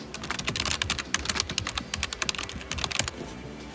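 Rapid, irregular keystrokes clatter on a computer keyboard for a few seconds, close and fairly quiet, with no voices over them.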